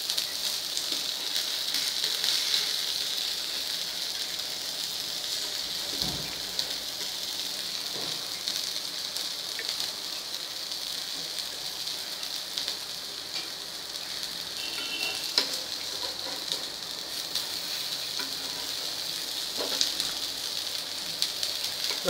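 Green moong dal vadya frying in oil in a pan give off a steady, bright sizzle that stays even throughout, close and fairly quiet, with no talking.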